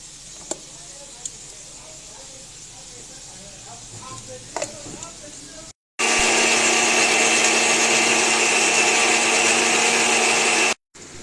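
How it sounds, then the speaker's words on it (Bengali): After a few quiet kitchen clicks and taps, an electric grinder roars loudly for about five seconds, grinding tomato, onion, green chilli, capsicum, garlic and ginger into a masala paste, then cuts off abruptly. "এরপরে মশলাটি বেটে নেব। এর মধ্যে আছে টমেটো, পেঁয়াজ, কাঁচা লঙ্কা, ক্যাপসিকাম, রসুন, আদা সমস্ত পেস্ট করে নেব।"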